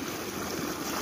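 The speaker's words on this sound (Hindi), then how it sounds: "आप देख सकते हैं कि पानी का धार कितना तेज है।" Fast, clear water rushes in a strong stream, a dense steady hiss and splash that is loud and close, with no voices over it.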